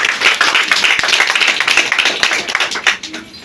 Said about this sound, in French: Applaudissez pour vous-même.